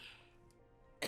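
A single sharp cough after drinking cold water, short and close, following a quiet room hum.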